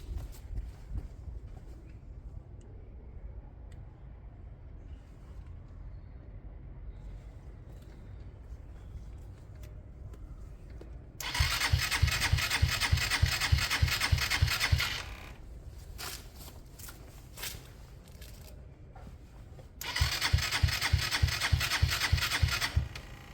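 A Sinnis Harrier motorcycle fitted with a Hanway carburettor conversion, quiet at first, then two bursts of rapid, rattling engine firing a few seconds apart as it starts and runs briefly at a high idle.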